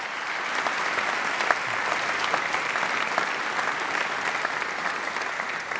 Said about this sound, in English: Let's give our coordinators and the folks who are responsible for this evening a great round of applause